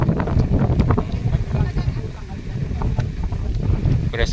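Strong gusty wind buffets the microphone outdoors at a pig farm in Bustos, Bulacan, a rough continuous rumble with scattered thumps and faint voices mixed in.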